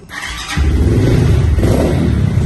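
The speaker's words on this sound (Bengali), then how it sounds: "আমি বাইকটার স্টার্ট করে সাউন্ডটা শুনেই দেই" A Taro GP motorcycle starts up with a brief cranking catch, then settles into a loud, close, steady thumping idle that holds to the end.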